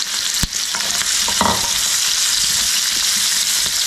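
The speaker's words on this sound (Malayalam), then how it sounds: "പിന്നെ ഒന്ന് ലൈറ്റായിട്ട് ഫ്രൈ ചെയ്തെടുക്കാം." Ivy gourd pieces frying lightly in oil with masala over a medium flame, a loud dense sizzle with occasional scraping stirs and a brief clatter near the start.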